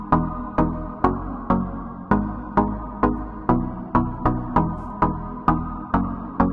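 Synth pluck layered over a bass line plays a bouncy, evenly spaced pattern of sharp attacks that decay quickly, repeating about twice a second, dry and close with nothing else heard.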